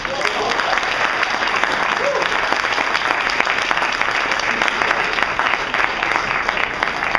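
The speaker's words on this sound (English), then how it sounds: "Round of applause for these guys." Audience at a hypnosis show applauds the volunteers, a thick, sustained burst of clapping that stays loud and even for the whole stretch, with some crowd voices underneath.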